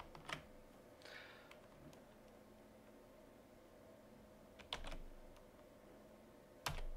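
Code being typed on a computer keyboard: a few sparse, quiet keystroke clicks with pauses between them and a faint steady background hiss, with no talking.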